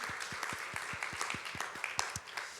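A church congregation at a Sunday service claps together in a steady, even rhythm of about four beats a second, heard from a moderate distance with a faint murmur of room noise beneath.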